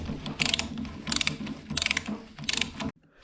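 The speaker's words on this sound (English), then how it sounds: "Tighten the nut holding the output shaft bearing and reverse gear." A hand ratchet tightens the nut on the output shaft bearing of a Ford Ranger M5OD gearbox, four quick bursts of close clicking, then stopping abruptly.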